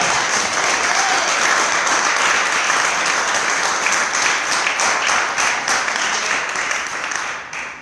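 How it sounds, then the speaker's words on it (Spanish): A church congregation gives a strong round of applause for the Lord, loud, dense clapping sustained evenly for several seconds before tapering slightly at the end, with no voices over it. "Es un fuerte aplauso al Señor"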